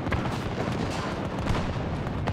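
Tank cannon fire in the video game Battlefield 2042 during a battle on a ship deck: dense, booming blasts and rumbling gunfire filling the whole clip, loud and continuous with no pauses.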